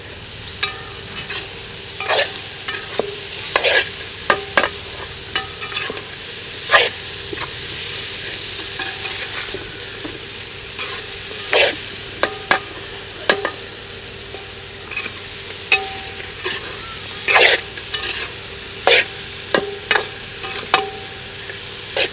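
Pieces of elephant foot yam fry in a pan under a continuous loud sizzle, while a utensil stirs them with frequent sharp scraping clicks at an uneven rhythm.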